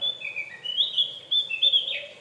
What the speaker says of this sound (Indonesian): Saking asiknya nih dengerin burung hama.